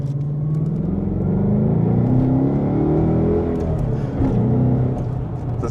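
Ford Mustang 5.0 V8 engine revving up, a deep, loud, steady rumble that swells and falls with throttle, near and continuous, with no talk over it.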